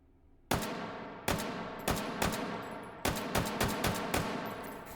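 An EM2 rifle in the VR game Hot Dogs, Horseshoes and Hand Grenades fires a string of loud, sharp shots at an uneven pace, some spaced apart and others in quick clusters, with no talking.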